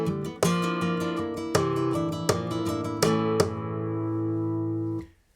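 Flamenco guitar plays a basic Bulerías compás phrase, sharp strummed chords and rasgueado accents landing in a driving rhythmic pattern, then ringing out and stopping cleanly; played alone, close and clear.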